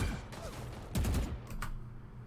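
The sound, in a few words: Vandal rifle gunfire in the video game Valorant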